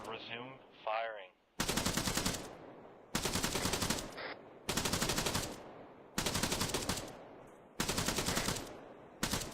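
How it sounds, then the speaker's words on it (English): Machine guns fire in a military video game in long sustained bursts, loud rapid rattling repeated about five times with short pauses between, preceded by a brief radio-like voice. "All machine guns resume firing."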